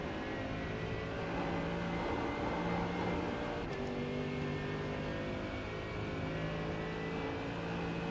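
A race car engine drones under throttle in the iRacing sim game, a sustained, fairly quiet tone with slowly shifting pitch and no clear breaks.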